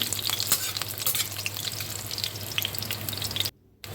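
Two dried and two green chillies crackle and sizzle in hot oil as a tempering for arhar dal. The steady frying is close and continuous, with light stirring, and cuts off abruptly just before the end.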